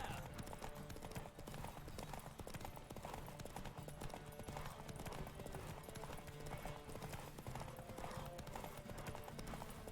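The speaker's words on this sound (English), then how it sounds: "This is the first time I've ridden a horse that isn't Roach." Horse hooves galloping in The Witcher 3 video game, a rapid continuous clip-clop rhythm, close and prominent, with game sounds layered over it.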